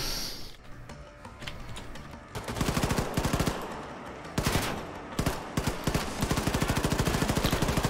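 Rapid gunfire in the first-person shooter Wolfenstein II: The New Colossus, with fast automatic bursts and sharp repeated shots, fairly close and steady after a quieter start.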